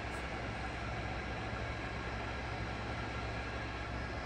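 A TOS FNK 25A vertical turret milling machine with a 1250x290 mm table runs at a steady 90 rpm, giving a continuous loud mechanical hum and whir with no change in level.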